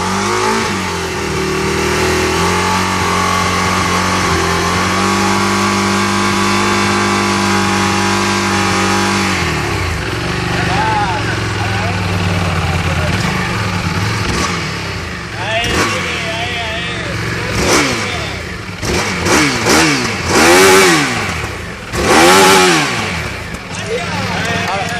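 An EBR 1190 RX motorcycle engine idles loudly and steadily at first, then is blipped and revved in repeated sharp, rising bursts, with voices heard alongside.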